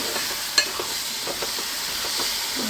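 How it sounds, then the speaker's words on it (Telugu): Chopped tomatoes frying in a pan for an omelette curry, a close, even sizzle with soft scraping stirs and one sharp clink early on. "టమాటాలు బాగా వేగనివ్వాలి చూస్తున్నారు కదా ఇలా వేగనివ్వాలి"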